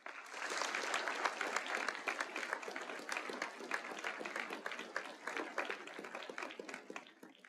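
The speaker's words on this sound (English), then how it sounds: "So can you please join me in a round of applause for this effort?" A college commencement audience at Georgetown College's 2022 ceremony gives a dense, sustained round of applause, many hands clapping together steadily for several seconds with no speech over it.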